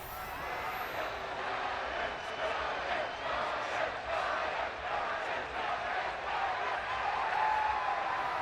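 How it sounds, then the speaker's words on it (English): A large video game football crowd roars and cheers steadily after a field goal, a broad continuous wash of voices swelling slightly, heard from a distance without a clear speaker. "You hear the crowd going wild."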